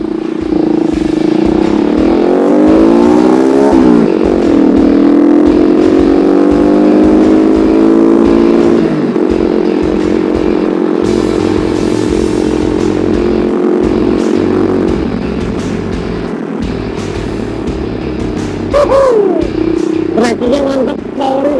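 A Cleveland Ace 400 Scrambler motorcycle rides past close and loud, its engine revving and rising in pitch through the gears, then settling into a steady drone before a final quick rev.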